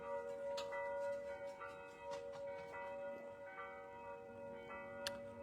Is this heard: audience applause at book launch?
no